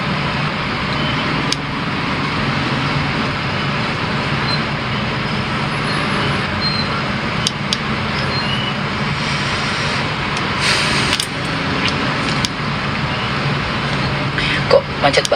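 Steady road traffic in a jammed Indonesian street, a continuous broadband rumble of engines with occasional sharper clicks and brief spikes, heard from inside the flow at moderate, even loudness.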